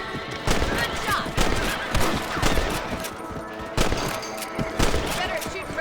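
Rifle shots at rabbits in the video game Red Dead Redemption, several sharp loud cracks at irregular intervals over a continuous outdoor ambience.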